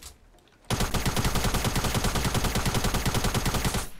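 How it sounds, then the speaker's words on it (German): Rapid automatic gunfire in the video game Fortnite Battle Royale, a loud burst of evenly spaced shots lasting about three seconds after a brief quiet start, with no talking. "Oh, diese Schüsse, das hört sich so."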